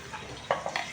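Onions drop into a hot pan for Sindhi-style daal and sizzle, with a soft frying hiss and a few quick stirring scrapes in under a second, close and fairly quiet, without talk.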